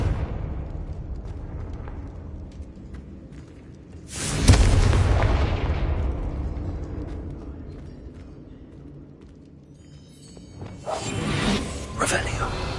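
A Confringo fire-blast spell bursts in the Hogwarts Legacy video game, one loud booming explosion that rings out and fades slowly, followed later by a second, weaker burst.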